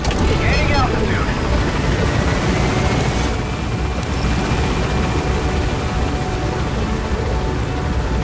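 A helicopter climbing in the video game Metal Gear Solid V, a loud, steady rotor and engine roar that fills the whole stretch without letting up, with game voices heard over it.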